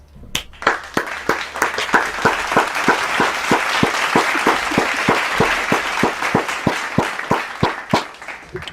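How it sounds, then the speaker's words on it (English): Rhythmic clapping from a crowd at a football post-game show, loud and close, with sharp claps landing in an even, steady beat for several seconds. "That deserves a clap."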